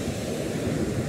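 Sea waves wash steadily onto a beach in Chile on a cool morning, a continuous broad surf rush with no breaks, close and fairly loud, with no talking.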